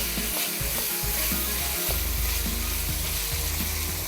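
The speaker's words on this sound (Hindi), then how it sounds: "चलें जी, अब इसको अच्छे से हमने भूनना है" Minced meat frying in a pan with salt and cumin powder, a dense continuous sizzle with faint stirring scrapes throughout, close and even, with no voices.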